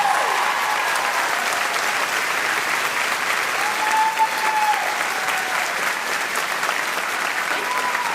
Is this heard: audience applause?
yes